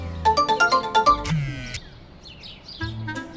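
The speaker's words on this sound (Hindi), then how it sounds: "अचानक उसका मोबाइल बजने लगा।" A mobile phone ringtone plays a quick series of bright, regular electronic chirping tones, then stops abruptly; faint bird-like chirps and soft background sounds follow.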